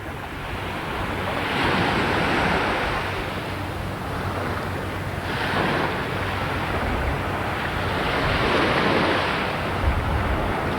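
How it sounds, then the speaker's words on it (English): Small, calm waves only a few inches high wash ashore in a sheltered Bahamas beach cove, a steady rushing surf with gentle swells rising and falling, plus some wind buffeting the microphone. "The waves are all maybe 3 or 4 inches high."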